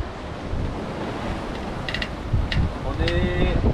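Strong wind blows at sea aboard a sailboat sailing a beam reach, a constant roaring rush with surf-like wash and a few brief higher squeaks near the end.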